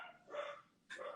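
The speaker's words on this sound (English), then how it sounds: "Sorry, my dog." A pet dog barks twice in a home, faint and a bit distant. The two short barks are separated by a brief gap, with no talking over them.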